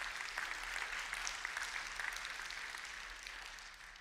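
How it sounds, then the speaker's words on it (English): A church congregation at an ordination service claps steadily, a dense wash of many hands at moderate distance that thins slightly toward the end. "Don't be so quick to clap"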